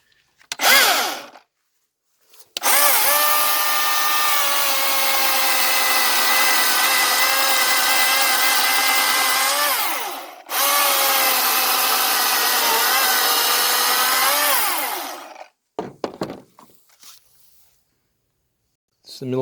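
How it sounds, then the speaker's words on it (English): Milwaukee 16-inch battery chainsaw cutting wood, two long loud bursts of close whining motor and chain buzz separated by a brief pause, with short rattles and handling noises before and after. "It's a Milwaukee 16-inch chainsaw"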